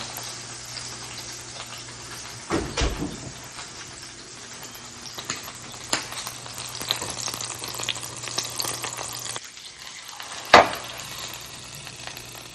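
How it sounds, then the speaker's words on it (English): Oven-baked salmon with citrus and garlic sizzles steadily and up close, a continuous crackling hiss with a few sharper pops, no voices. "Okay, so I think my salmon is ready. Wow, it's sizzling, it's beautiful."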